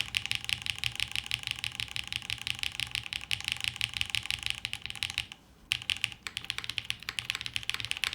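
Steady, fast typing on a purple custom mechanical keyboard with a top-mount build, close and crisp keystrokes with a slight resonance, pausing briefly before resuming.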